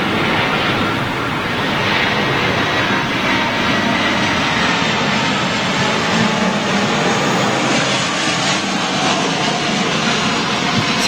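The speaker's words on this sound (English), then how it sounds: "Look at that Delta 320." Delta Airbus A320 jet airliner at LAX airport, a loud, steady broadband engine roar and rush of air sustained throughout, with no talk.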